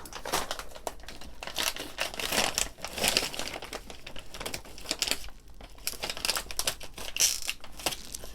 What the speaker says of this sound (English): Or here's the soil. Brand new bag. So let me cut it open.